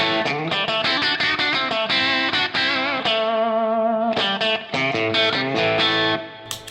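Electric guitar playing overdriven chords and single notes through a Wizard Crunch compressor pedal, with a compressed, sustained tone, loud and continuous.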